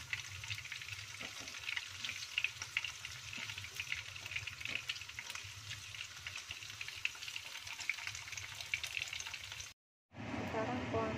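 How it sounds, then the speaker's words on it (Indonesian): Tofu fries in oil for a spicy seasoned dish, a bright steady sizzle with busy crackling and bubbling near at hand, cut by a brief drop to silence just before the end. "tahunya udah siap digoreng"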